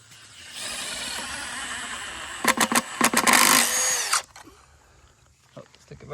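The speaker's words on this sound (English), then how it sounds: "let him run in some of these screws" A cordless power drill drives screws into wood on a tiny cabin build, running in a sustained whir with several short bursts and stops near the end, close by, with a few voices heard around it.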